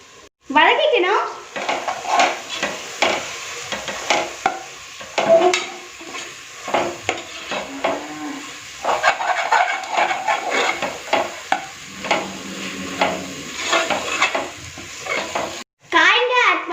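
Spices and masala for a vegetable biryani sizzle in a pan, with a utensil scraping and stirring repeatedly. Stretches of talk come through over the frying.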